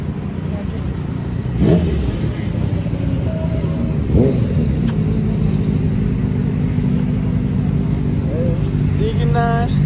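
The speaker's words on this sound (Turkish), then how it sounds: "Bu nasıl araba Azra" Car traffic rumbles steadily on a city street, with a couple of vehicles passing nearby and engines droning loudly while someone talks over the noise.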